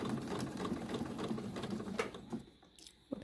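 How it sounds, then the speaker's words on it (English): A domestic sewing machine runs steadily stitching fabric toward a sharp corner, a close rapid rhythmic chatter that slows and stops near the end, followed by faint handling clicks. "I'm going to sew all the way down to the corner."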